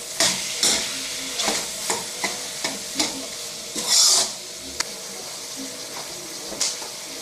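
Spaghetti sauce being stirred in a frying pan: a soft background sizzle broken by a series of irregular scraping strokes and occasional clinks, close by.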